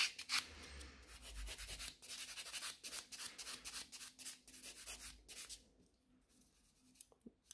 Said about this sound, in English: I'm using 100 grit side, so it's faster. Okay, and I'm just smoothing the entire nail.